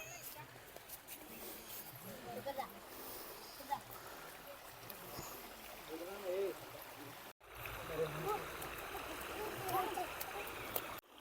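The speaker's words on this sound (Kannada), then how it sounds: "ಎಲ್ಲ ಕಡೆ ನೀರು ಬರ್ತಾ ಇದೆ ಬೆಟ್ಟದಿಂದ" Water trickles down from the hill near a cave exit, a faint continuous gurgle and splash under a person talking, and the flow briefly cuts out partway through.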